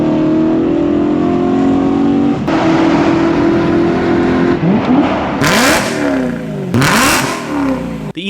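A BMW E9X M3 with the S65 naturally aspirated V8 and individual throttle bodies revs hard, a loud, continuous rising engine howl with gear changes and sharp climbs toward the end.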